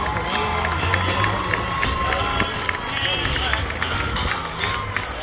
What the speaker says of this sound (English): The E1 softball team, along with everybody else, ready to cheer for the finish line